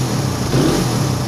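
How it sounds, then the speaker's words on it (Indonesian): A Suzuki Satria FU motorcycle engine idling with a faulty speedometer and tachometer, a steady mid-pitched running hum, close and even throughout the short stretch with no voices. "ini motornya udah menyala, namun jarum RPM nya tidak mau bergerak ya"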